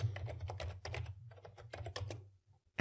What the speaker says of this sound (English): Select cell A4 and type the name Jane in it and press Enter.